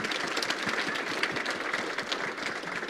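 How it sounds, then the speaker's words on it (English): A conference audience at a summit celebrating American hog farmers applauds a panel with steady, dense clapping that holds at an even level throughout, with no voices. "Let's give them a round of applause, please."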